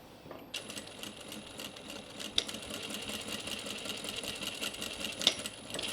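Sewing machine stitching fabric for a small pleated bag, a fast, even mechanical chatter of needle strokes running continuously at close range after a brief start, with a couple of faint clicks.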